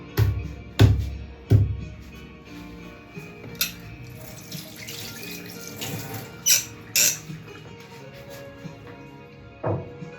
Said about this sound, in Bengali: জল ঝরাচ্ছি